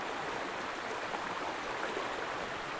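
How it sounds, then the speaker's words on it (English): A shallow mountain stream about six inches deep flows steadily, giving a continuous, even broadband rush of water at moderate level with no pauses. "while we're walking this gorgeous mountain stream"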